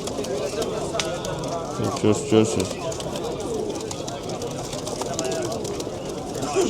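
Pigeons at the Sabunchu bird market cooing in short soft bursts near the middle, surrounded by steady market bustle as people talk over them.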